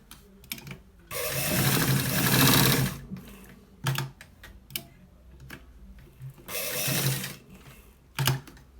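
A sewing machine stitches a shirt collar in two long, loud whirring bursts, with quiet gaps between them broken by sharp clicks and taps from handling the fabric, heard up close.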